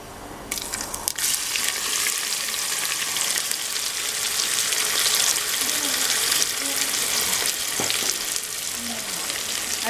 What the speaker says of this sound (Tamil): அதில் நம்ம அந்த வெங்காயத்தை சேர்த்து வதக்கிக்கலாம்.